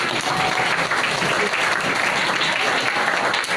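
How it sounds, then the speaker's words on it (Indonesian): A seated audience at a community internet-safety outreach event claps together in a dense, steady burst of applause that holds evenly for several seconds. "Tepuk tangan untuk kita dulu."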